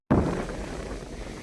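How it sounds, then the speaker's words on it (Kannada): A strong gust of wind sweeps across an open farm field and buffets the microphone with a steady, loud roar that starts abruptly and carries on without a break. "ಗಾಳಿ ತುಂಬಾ ಜಾಸ್ತಿ ಆಗ್ತಿತ್ತು"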